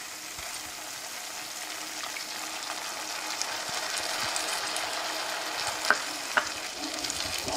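Tamarind juice poured into a sizzling pan of frying mustard rice mixture, a steady broad hiss of frying with faint stirring and a couple of small clinks near the end.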